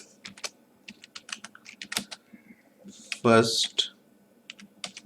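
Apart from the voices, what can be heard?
typing a note on a computer keyboard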